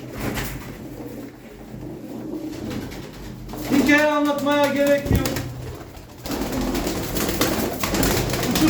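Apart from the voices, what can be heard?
pigeons cooing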